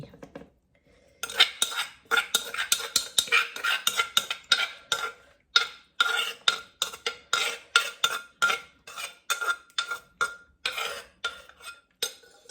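Papaya salad is poured and scraped onto a plate, producing a long run of rhythmic clinks and scrapes of utensils against dishes. The clatter is close and loud, in quick repeated strokes after a brief quiet start, with no talking.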